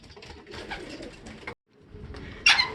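Racing pigeons arriving back at the loft during training before a mini sprint race, with soft close cooing and bird calls in short bursts, a brief gap, then a sharper call.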